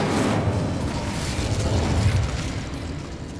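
An Incendio fire spell bursts in Hogwarts Legacy, a loud, sustained roaring whoosh of flame that swells and then fades over a few seconds, with no voices.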